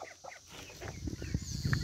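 Chicken clucking on a small rural farm, several short close clucks rising in level toward the end over a soft outdoor background.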